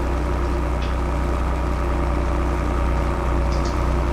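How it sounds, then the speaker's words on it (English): A vintage tractor fitted with a Quickie front-end loader runs at a steady idle, a continuous dense low engine rumble, close and fairly loud, with no talk over it. "It's got a very nice sound. Sounds like a tractor."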